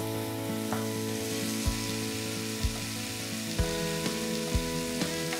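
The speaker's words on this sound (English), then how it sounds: "Once the onions are nice and brown, I'm going to add some grated raw tomatoes." Grated raw tomatoes frying with browned onions and finely chopped green chilies, a soft continuous close sizzle with a few faint taps of stirring, with no voices.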